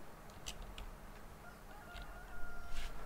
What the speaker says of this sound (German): Außer der Hahn, der schreit so laut.